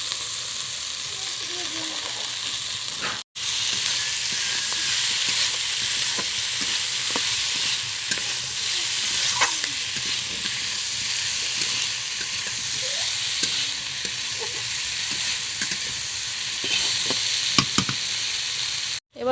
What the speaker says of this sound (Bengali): কেটে ধুয়ে রাখা শাকগুলো দিয়ে দেব।